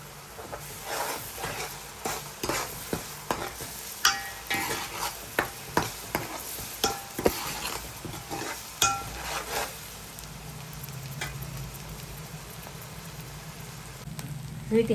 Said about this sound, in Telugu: ఇది కొంచెం ఫ్రై అవనిద్దామండి అల్లం వెల్లుల్లి పేస్ట్.